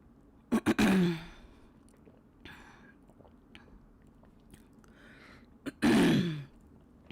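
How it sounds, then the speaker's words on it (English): Two loud, close throat clearings, one near the start and another toward the end, with quiet shuffling and small mouth noises between them. "I wasn't coughing, I was clearing my throat."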